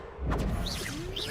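Casting the Accio summoning spell in Hogwarts Legacy gives a sudden whooshing burst followed by shimmering, sweeping magical tones, short and loud against continuous game background sound.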